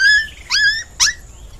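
A cartoon dog gives three short, high yelps in quick succession, loud and close, with no speech over them.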